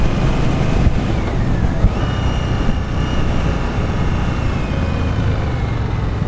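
A Victory Octane motorcycle on a demo ride gives a steady, smooth engine drone with wind rush, loud and continuous, with faint tonal whines sliding over it.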